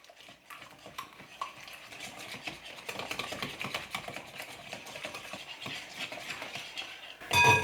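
Gluten-free apricot almond bread batter, with vanilla and almond extract added, being stirred in a bowl: a continuous, moderately quiet scraping and clinking of utensil against the bowl, ending in a brief louder knock.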